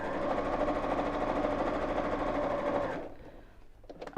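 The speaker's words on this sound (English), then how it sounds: "I'm sewing over the same stitch line that I've just sewn." A sewing machine stitching back over a seam on a square fabric pouch, a close, rapid, even whir that runs for about three seconds and then stops, followed by a few faint handling clicks.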